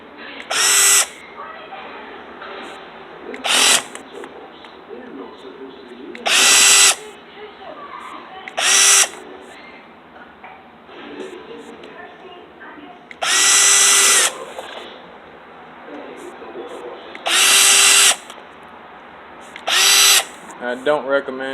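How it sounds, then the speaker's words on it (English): A power drill runs in short, loud high-pitched whirring bursts, about eight of them spaced a few seconds apart, while driving screws on a Yamaha XS1100 Special carburetor, with someone talking between bursts. "I don't recommend using a drill to tighten these on."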